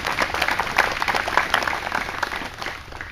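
Outdoor crowd applause at a 2018 Memorial Day service in Senecaville, Ohio, greeting a community band; steady scattered clapping at moderate distance that slowly thins toward the end.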